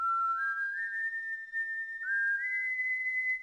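Proto Man's whistle from the video game Mega Man 8 plays clearly on its own, a pure melodic tone stepping upward in two rising phrases.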